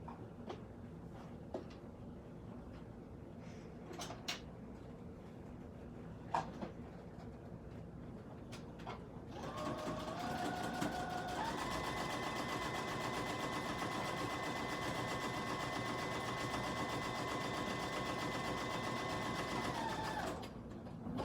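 A small sewing machine stitches a vintage-style fabric mask, whirring steadily for about ten seconds after scattered quiet handling clicks, then stopping.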